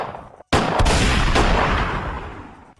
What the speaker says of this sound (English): a roar of gunshots blasted from within the police station